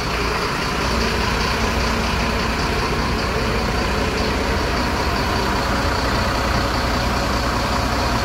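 ALS intercity bus engine idling at a terminal in Yogyakarta, a loud, steady, dense rumble that holds constant throughout with no talk.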